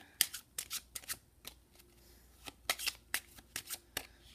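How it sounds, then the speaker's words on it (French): A deck of playing cards shuffled for a simple magic trick, close and crisp, with a quick run of riffling bursts, a pause, then a second set of snapping riffles. "je vais tout d'abord commencer par mélanger le paquet"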